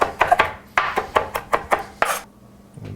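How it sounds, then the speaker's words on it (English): Knife chopping cilantro leaves on a cutting board, about eight quick, close, sharp strikes in an irregular burst before falling quiet. "and just give this a quick rough chop."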